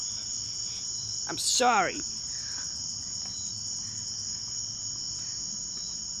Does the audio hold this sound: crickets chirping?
yes